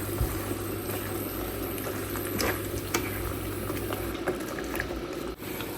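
Chicken liver and vegetables stew in water under a lid in a covered pan, giving a steady, even bubbling simmer that runs throughout with no talking.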